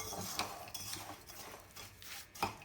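A spoon scrapes and stirs walnuts and sugar in a bowl, giving close, uneven rubbing and clinking strokes with a few sharper taps, alone without speech.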